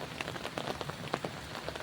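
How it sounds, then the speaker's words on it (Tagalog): Rain falls steadily near a field in Ilocos Norte, making a soft, even patter of many drops that stays faint and continuous with no voices. "Pero umuulan kaya"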